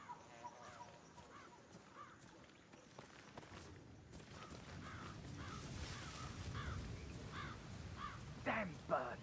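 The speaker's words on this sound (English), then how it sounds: "Damn birds. If I could just get a clear hit on those nests." Crows caw repeatedly in the Hitman World of Assassination video game, the harsh calls coming in clusters and growing louder and closer toward the end over a low ambient bed.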